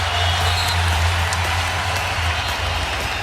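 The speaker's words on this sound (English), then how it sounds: "Crowd going crazy" A virtual arena crowd roars steadily during an NBA Live 16 basketball game between Oklahoma City and Golden State, a dense, loud, continuous cheer with no break.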